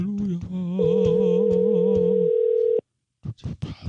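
A telephone ringing tone sounds while a call is placed: a steady electronic tone holds for nearly three seconds, then cuts off abruptly, followed by a brief pause and a few short noises.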